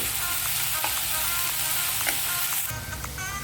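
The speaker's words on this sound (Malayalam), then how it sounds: "വളരെ തിന്നായിട്ട് ചോപ്പ് ചെയ്തിട്ടുള്ള സവാള ഇട്ട് കൊടുക്കണം ഇതിലേക്ക് പാകത്തിനുള്ള ഉപ്പ് കൂടി ചേർത്ത് കൊടുത്ത് നന്നായി വഴറ്റി കൊടുക്കണം" Finely chopped onion with salt sautéing in a pan for a paneer masala dosa filling, with a loud, steady sizzle throughout and occasional light stirring clicks close by.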